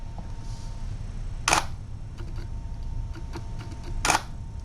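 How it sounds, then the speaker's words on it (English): Two crisp, loud clicks from a camera's noisy mechanical shutter ring out a few seconds apart, with faint rustling and small handling sounds between them in a quiet room. "it's got a noisy mechanical shutter."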